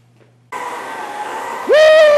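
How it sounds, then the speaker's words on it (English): A new vacuum cleaner kicks on with a broad, steady whoosh, then its motor spins up into a loud rising whine that holds at a high pitch, with no voices over it. "this new vacuum cleaner is awesome"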